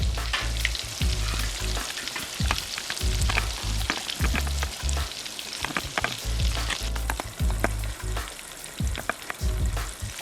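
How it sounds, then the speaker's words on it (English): Coconut-coated fish fillets fry in a pan with a steady sizzle, broken by repeated bumps and scrapes as the pieces are placed and turned, close and moderately quiet. "until they're all finished frying"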